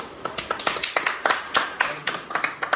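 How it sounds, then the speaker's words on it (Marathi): A small home gathering for a Gauri Pujan celebration claps for an award winner, a run of sharp, fairly close handclaps in an irregular rhythm that carries on throughout with no talking. "तर सगळ्यांनी टाळ्या वाजवावे"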